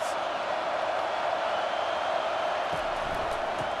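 A stadium crowd roars in a College Football 25 game, a dense, sustained wash of cheering with a few low thumps near the end.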